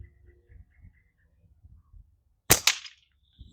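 A Simpleshot Cleaver Pro slingshot fires with a sudden sharp snap followed by a quick smack on the target, after soft low rustling, with another faint thump at the end.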